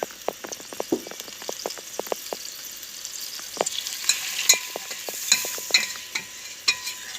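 Flour roasting in a pan for kelle paça soup, stirred steadily, with irregular scraping and tapping strokes of the spoon over a faint crackling sizzle, close and without talk.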